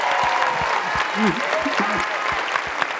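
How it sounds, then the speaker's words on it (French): Audience at a film comedy festival awards ceremony in Alpe d'Huez applauding a best actress prize, dense steady clapping throughout with a voice calling out briefly over it. "le prix d'interprétation féminine et la salle applaudit"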